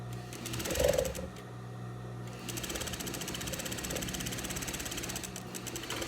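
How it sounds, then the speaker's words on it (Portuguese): A sewing machine runs steadily while stitching red viscose fabric for a dress, giving a continuous close mechanical whir with a rhythmic needle patter and a brief louder burst near the start. "Vou costurar dando 2 centímetros."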